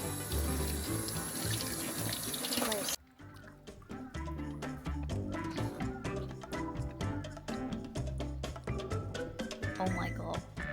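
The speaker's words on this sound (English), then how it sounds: "now they've got a little sink here where you can wash the strawberries" Running water from a small sink tap as strawberries are rinsed, a steady close splashing stream under ongoing talk, with a busier burst of water at the start before it settles.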